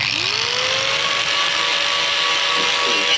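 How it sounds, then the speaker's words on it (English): A grinder or wire brush whines steadily against a Kawasaki KH125 motorcycle's metal battery tray during restoration, a continuous loud, close abrasive buzz with a rising pitched tone, with no talking. "I've got that about as realistically clean as I can with the wire brushes and the grinders"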